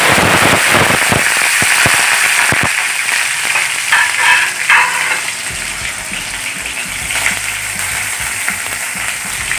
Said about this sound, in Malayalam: ഇനി നമുക്ക് അതിലേക്ക് ഇഞ്ചി വെളുത്തുള്ളി പച്ചമുളക് ഇട്ട് കൊടുക്കാം